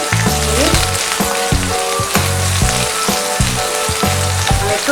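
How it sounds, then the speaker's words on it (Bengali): Curry leaves, chopped ginger and green chili frying in hot oil in a pan, a steady loud sizzle with rhythmic stirring clatter and scraping throughout, no voices. "একটু হালকা করে ভেজে নিই।"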